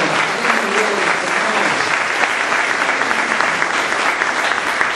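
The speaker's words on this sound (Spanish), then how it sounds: "Dale un aplauso a Jesucristo, por favor." A church congregation applauds steadily and loudly for the full stretch, a dense wash of many hands clapping close by, with a little talk mixed in underneath.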